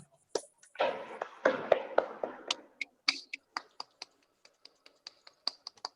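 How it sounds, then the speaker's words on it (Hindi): Hands clapping at an AACI Pinkathon Navratri gathering: a short burst of overlapping claps, then a steady run of single crisp claps, each spaced about a third of a second apart, close and fairly loud with no talk. "ताली बजाइए."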